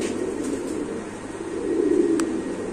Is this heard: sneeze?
no